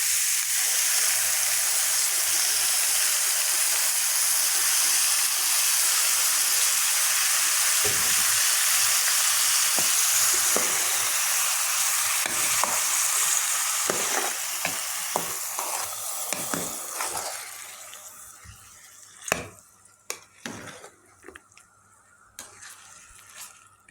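Tomatoes go into a hot frying pan for a zucchini and meat tagine, making a loud, steady sizzle that fades over the second half into scattered clinks and stirring scrapes.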